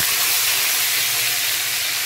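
Curry leaves and chillies splutter in hot oil for a sambar, a loud, steady, close sizzling hiss that fills the whole moment without pause.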